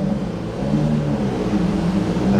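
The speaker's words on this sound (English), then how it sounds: "And let's hear that V12 for a last time." A Lamborghini Aventador V12 engine revs with a loud, dense, deep roar that rises and holds steady through the short stretch, heard close with no talking.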